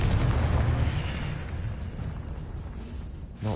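Confringo spell explosion in the video game Hogwarts Legacy, a loud rumbling blast that decays slowly over a few seconds and ends with a brief sharp burst.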